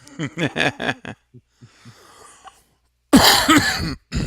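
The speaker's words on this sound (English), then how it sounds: "Sorry for coughing everybody's ears." A burst of several sharp, close coughs in quick succession, a quiet pause with faint small sounds, then a harsh loud cough fit.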